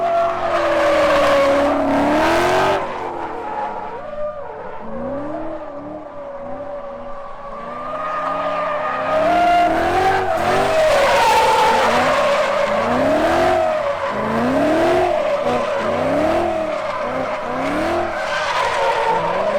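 A car drifts around a track, its engine revving up and down in repeated swells while tires squeal through each slide, loud and close for the full stretch.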